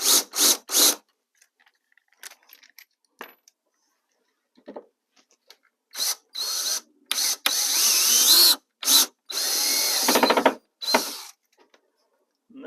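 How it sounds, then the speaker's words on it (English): Power drill countersinking holes in wood for flathead wood screws on a spooky lighting prop: short whirring bursts, then longer drilling runs, each starting and stopping abruptly and heard up close with no talk. "Countersink on that."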